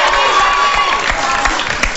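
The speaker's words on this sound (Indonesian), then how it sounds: "Tepukan untuk Lan" Applause and light cheering from a crowd greet a performer named Lan, a dense steady patter of claps filling the room with scattered sharper claps standing out.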